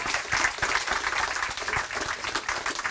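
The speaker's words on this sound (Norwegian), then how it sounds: "Applaus igjen." Applause from an audience at a live book reading event, a steady crowd of hands clapping evenly throughout, moderately loud and unbroken.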